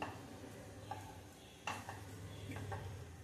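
Semolina (rava) is pressed and stirred into milk in a pot for a sweet, with soft scraping and occasional light clinks of a utensil against the pan, close and quiet over a faint steady hum.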